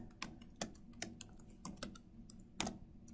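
Rapid, uneven key clicks as a passphrase is typed on a computer keyboard during an OpenSSL session, with about eight distinct taps spread across a few seconds, close up and fairly quiet with no voices.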